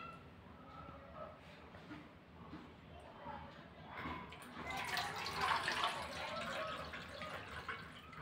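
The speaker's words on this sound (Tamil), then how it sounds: "இன்னும் ஒரு கிளாஸ் தண்ணி சேர்க்குறேன்." Water poured from a glass into blended lemon mint juice, a faint liquid splash that swells midway and carries on steadily under quiet background noise.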